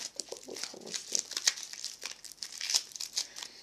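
Aluminium foil is crumpled by hand for a craft doll, giving close, dry crinkles in uneven bursts with sharp crackles. No voices are heard.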